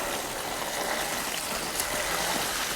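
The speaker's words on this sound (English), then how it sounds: "just gonna ride down the river here." Flowing river water splashes steadily around an e-bike ridden through a flooded abandoned railway tunnel, a continuous close rushing and trickling wash with no talk.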